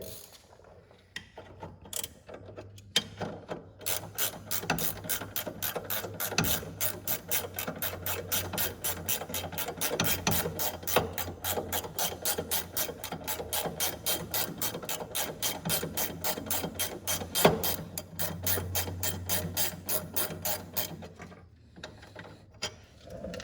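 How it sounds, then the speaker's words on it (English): A ratchet wrench removes 17mm bolts from the brakes of a Toyota Supra, clicking in a long, fast, even run of sharp pawl ticks, close up with a few short pauses at the start and end. "I can go ahead and continue to take out these 17mm"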